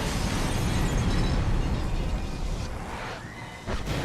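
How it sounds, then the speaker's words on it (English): A loud explosion in Star Wars: The Force Unleashed, a sustained roaring, crackling blast that fills the sound and slowly thins, with a brief burst near the end. "That explosion kills me."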